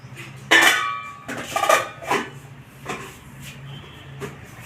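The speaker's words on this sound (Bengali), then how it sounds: "এবার জলটাকে আমি ছেঁকে নেব" Kitchenware clanks and knocks as water is strained off salted taro stolons, giving several sharp, close metallic clatters spaced irregularly over a low background hum.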